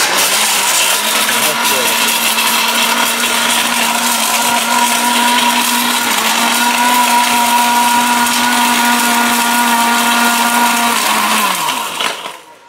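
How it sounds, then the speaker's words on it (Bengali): A heavy-duty blender with a steel bush grinds hard brick into powder, a loud, steady motor whine with gritty rattling that runs without a break before winding down abruptly at the end. "এত heavy duty Blender, still বুশের Blender."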